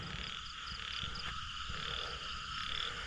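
Many frogs croak across a rice field during the rainy season, a dense, continuous chorus with rhythmic pulsing calls and no voices.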